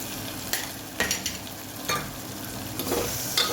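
Chili powder, turmeric, coriander-cumin and salt being stirred into a hot pan with oil, a soft sizzle broken by a few scraping spoon strokes against the metal, close and moderately loud, without voices.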